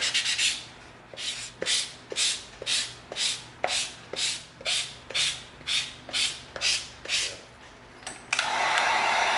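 EVA foam is sanded with 220-grit sandpaper in about fourteen short, even back-and-forth strokes, close and crisp, followed by a steadier hiss at the end.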